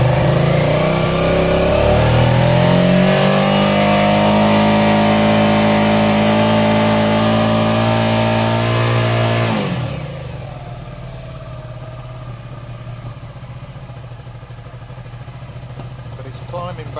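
Suzuki SV650 motorcycle engine revving up steadily for about ten seconds, then dropping back to a lower steady idle with faint clatter; loud and close, with no voices.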